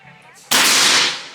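A PCP air rifle fires a single sharp, loud shot that bursts out abruptly and decays with a hissing tail, after a quiet moment of faint background sound.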